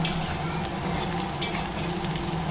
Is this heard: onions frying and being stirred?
yes